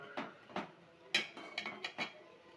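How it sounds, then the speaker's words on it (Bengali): Chicken being stir-fried in a pan at home, several separate utensil clanks and scrapes against the pan set against a quiet background. "এই যে দেখুন, এই চিকেনটা আমি এখন কষিয়ে নিচ্ছে।"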